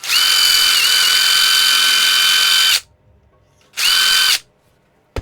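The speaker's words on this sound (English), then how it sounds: "So I can just drill there." A power drill bores through a part, one long whining burst of nearly three seconds, a pause, then a second short burst, loud and close with no talk.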